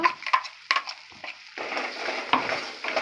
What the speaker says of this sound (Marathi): एकत्र चांगलं मस्त भाजून घ्यायचं तेल सुटेपर्यंत